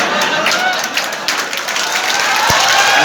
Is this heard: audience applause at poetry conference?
yes